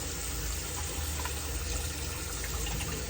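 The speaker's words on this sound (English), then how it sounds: "Water is getting hot." Hot water runs steadily from a tap to prepare for wet shaving, a constant close, even gush with no talk over it.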